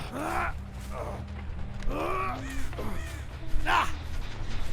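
In the horror game Dead by Daylight Mobile, crows caw several times in harsh bursts over a low droning backdrop, with a player's voice talking intermittently.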